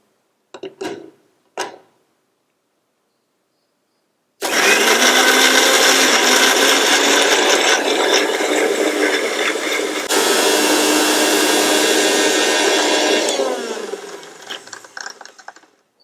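An electric mixie grinds raw onions without any water: two short pulses, a pause, then a long, loud, close whirring grind with a brief break midway, ending as the motor winds down and rattles to a stop.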